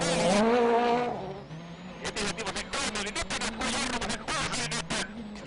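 Rally cars at WRC Rally Sweden, a Ford and a Citroen on a rutted road, with an engine whining up through the revs, then rapid bursts of revving, gear changes and crackling exhaust pops, loud and close, with a commentator talking over it.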